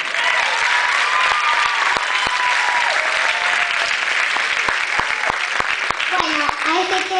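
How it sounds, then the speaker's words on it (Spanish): An audience gives loud, continuous applause at a talent show for a young singer about to perform a song, with sharp individual claps standing out while a presenter talks over it and cheers rise within the crowd. "Le damos un fuerte aplauso a Paz Echeverri."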